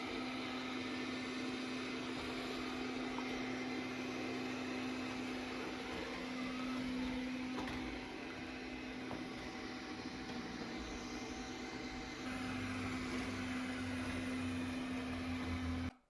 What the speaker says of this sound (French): une fois l'aspirateur est passé, je lui ai ordonné de nettoyer le sol